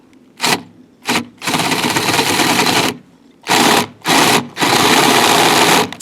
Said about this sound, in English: 7/8 hole borer to just make it that I can put a washer around here and have the head of the bolt even with the body of the wood